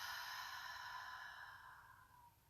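A slow, steady exhale during a guided breathing exercise in a stretching session, a soft breathy airflow close to the mic that holds evenly for about two seconds and then gradually fades, with no talking over it.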